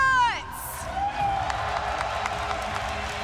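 A home crowd at IEM Katowice 2019 cheers and claps for the Counter-Strike Danger Zone champions, a steady wash of applause and whoops in a large arena after a brief shout.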